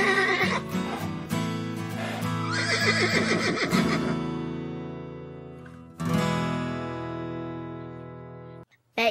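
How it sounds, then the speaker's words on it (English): Two domestic palomino horses fighting give loud, shrill, wavering neighs and whinnies in quick bursts, then a long whinny that fades out, with faint thumps between the calls. "Two domestic palominos fight each other to decide."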